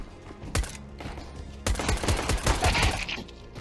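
USP pistol gunfire from the video game CS:GO: sharp, close shots, first a single crack, then a rapid cluster of overlapping bursts over a low rumble.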